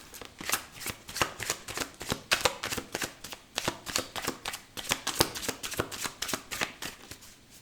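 A deck of playing cards is shuffled close by, a regular rhythm of crisp papery riffles and flicks repeating steadily for several seconds with no talking.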